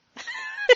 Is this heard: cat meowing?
yes